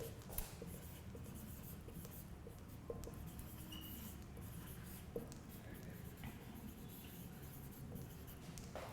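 Continuous scratchy scraping of writing on a board during a business studies lesson on planning, steady strokes running the whole time as a close, fairly quiet texture, with faint room noise.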